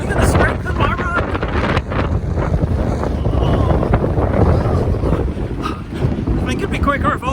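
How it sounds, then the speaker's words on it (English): Strong wind buffets the microphone while a runner heads straight into it during a half marathon, a loud continuous rumbling roar with gusty surges lasting throughout. "I've turned around now and I'm running into the wind"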